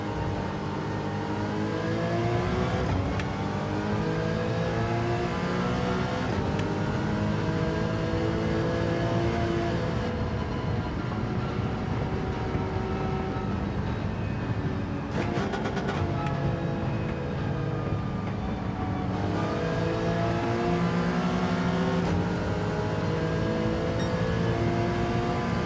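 Engines roar and whine continuously as several Gr.4 race cars pass in quick succession in a racing video game, their pitch rising and falling, loud and steady throughout.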